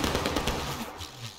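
Rifle volley from the Civil War video game War of Rights, a ragged burst of overlapping musket shots fired together, moderately distant and fading quickly.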